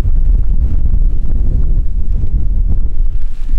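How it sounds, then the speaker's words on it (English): Loud, gusty wind buffeting the microphone at a campsite in Uzbekistan as a storm nears, a constant low roar and rumble that never lets up, with no voices. "our very peaceful and not windy campsite became suddenly a very windy campsite"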